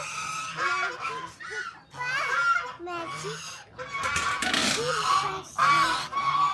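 Domestic ducks on a small farm honk and quack in repeated loud bursts through the clip, mixed with background chatter from people nearby.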